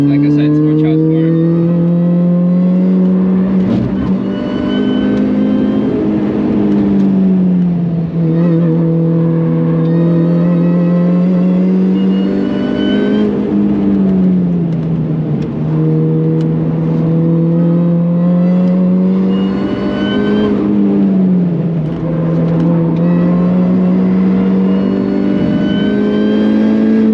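A Mini Cooper S R53 engine droning steadily in third gear on the Nürburgring, loud and close from inside the car, with pitch rising and dipping through a few gentle swells under occasional talk.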